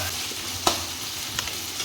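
Masala frying in a pan for chicken sherva, a faint steady sizzle with a single sharp stir or clink partway through and a couple of softer taps later, no voices.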